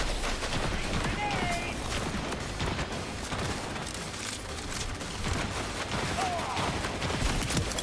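Turret gunfire during a boss fight in the video game Borderlands 4, rapid dense volleys of shots and mechanical clatter running throughout, loud and busy, with a player talking over it.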